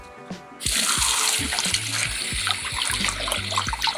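A soapy sponge is rinsed and squeezed under a running tap, a steady stream of water splashing into a sink with soft squishing and dripping, close and moderately quiet, with no voices.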